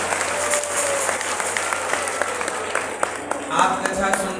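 A devotional katha audience applauds to welcome the host family, with sustained, dense clapping from a large crowd throughout.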